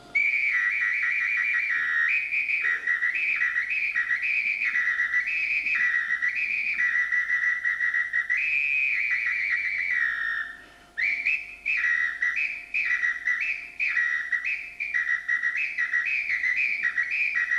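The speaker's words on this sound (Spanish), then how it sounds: "El apito es esto que tengo acá, que es un silbato" A shrill apito samba whistle, as used by samba orchestra directors, blown loud and close in a steady rhythmic pattern of repeated trilled bursts, with a brief pause midway.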